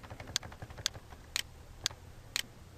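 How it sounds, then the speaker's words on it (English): Sharp clicks from a computer's hard drive during a disk cleanup, five distinct ticks spaced roughly half a second apart over a low steady hum, close and fairly quiet. "I know you're hearing that god-awful clicking sound."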